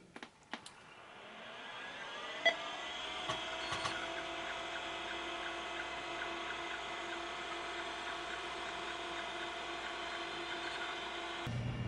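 A 1980s hard drive spins up after oil was applied to its motor bearing, with a rising motor whine that settles into a steady hum, a few sharp clicks of the heads seeking near the start, and the drive running on steadily.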